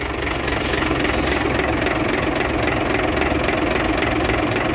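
A truck engine idles steadily and loudly with a constant low rumble, with the clutch making a noise under it; no one speaks.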